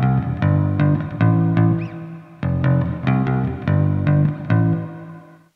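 Bass guitar notes are plucked in a steady rhythmic pattern through a Boss RV-5 reverb pedal, each one ringing out with a washy tail, loud and alone without any voices.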